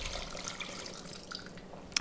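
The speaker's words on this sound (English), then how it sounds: "Then I went ahead and poured over some water up to just below the max line." Water poured into an Instant Pot over chicken feet for bone broth, giving a soft, steady splashing trickle at moderate distance that ends with a small clink.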